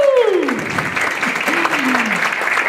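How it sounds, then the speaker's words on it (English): Applause from Amityville High School students at a smart growth summit, steady clapping from a crowd with a whooping, gliding voice cheering over it near the start and again midway. "Let's give yourself a round of applause."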